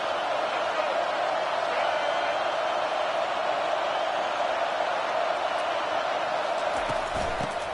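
Stadium crowd cheering at an Alabama football game, a steady loud roar of many voices filling the space, sustained without break, with a faint thump near the end.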